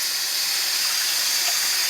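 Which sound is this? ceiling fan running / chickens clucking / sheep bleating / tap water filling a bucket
tap water filling a bucket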